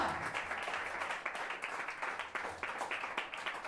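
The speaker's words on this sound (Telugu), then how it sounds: "గట్టిగా ఏసీకి చప్పట్లు కొట్టండి గట్టిగా" A church congregation applauds during a sermon, a steady, dense round of clapping with sharper accents throughout, moderately loud and without talk over it.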